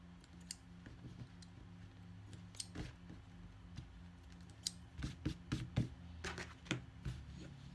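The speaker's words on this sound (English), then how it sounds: "I'm going to trim these little threads back here." Small scissors snip loose threads on a sewn bifold wallet, with scattered quiet clicks early and then a quicker run of close crisp snips toward the end.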